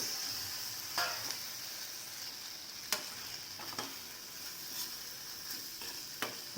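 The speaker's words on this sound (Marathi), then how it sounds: "तेलात चांगला भाजून घ्यायचा हा मसाला" Masala fries in oil with a soft, continuous sizzle, punctuated by several sharp scraping clicks of a spoon stirring against the pan.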